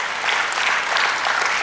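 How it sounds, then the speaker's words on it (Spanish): Congregation applauding together in a church service, a dense, steady wash of clapping hands that stays loud and even throughout, with no talk over it. "dale aplauso al Señor"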